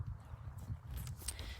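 A herd of horses moves close by outdoors, low hoof thuds and shuffling with a few soft higher sounds, all fairly quiet and without speech.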